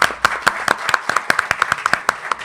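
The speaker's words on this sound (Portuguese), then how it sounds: "Uma salva de palmas para o Francisco." Clapping for Francisco at a public talk in a Lisbon bookstore, heard as a small group of distinct, fairly close hand claps in a quick, slightly uneven rhythm.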